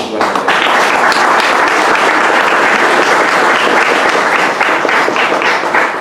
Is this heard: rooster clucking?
no